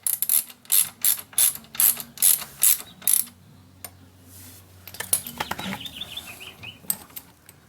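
A hand ratchet tightens a bolt on the footpeg bracket of a Sur Ron Light Bee electric dirt bike. About eight quick, rhythmic clicking strokes come close up, then quieter fiddling with tools and parts.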